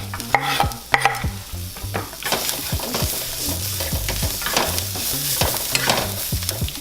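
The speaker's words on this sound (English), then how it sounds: "Now that the peppers and onions are cooked, I'm adding 2 cloves of crushed garlic." Crushed garlic goes into a frying pan with cooked peppers and onions for a vegan cheesesteak, sizzling steadily while a utensil stirs and scrapes the pan in repeated clattering strokes, close and alone.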